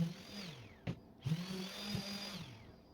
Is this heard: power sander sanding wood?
yes